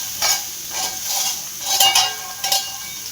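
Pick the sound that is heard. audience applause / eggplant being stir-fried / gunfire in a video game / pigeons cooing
eggplant being stir-fried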